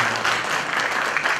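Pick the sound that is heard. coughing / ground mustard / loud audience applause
loud audience applause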